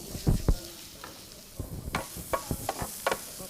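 Onions fry and sizzle in a pan while a utensil stirs and scrapes them, with irregular knocks and scrapes over a soft, steady sizzle.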